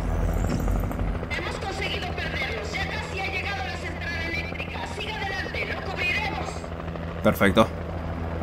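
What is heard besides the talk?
helicopter in video game Alan Wake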